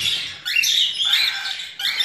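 Lovebird chicks in a small box give high, thin chirps, two bursts close by, loud and alone.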